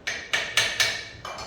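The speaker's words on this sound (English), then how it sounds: "now I'm gonna tap this down just a shade" Several sharp metallic hammer taps from an old peen hammer striking metal while working on a War Machine, about five distinct close blows spaced unevenly with brief ringing decay after each.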